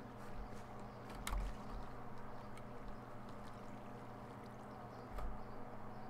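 Water in Minecraft flowing in a continuous soft wash, faint and steady, with a few light knocks at intervals.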